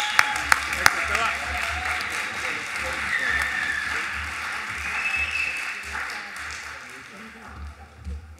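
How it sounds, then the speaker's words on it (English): An audience at a school valedictory assembly applauds in a soft, steady wash, with a few sharp claps early on and voices talking underneath, fading toward the end. "Should we give him another round of applause?"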